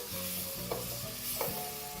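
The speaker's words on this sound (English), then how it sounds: "All we are going to do now is continue frying." Steady sizzling of tomatoes frying in a pan, with a few soft stirring scrapes over the constant hiss.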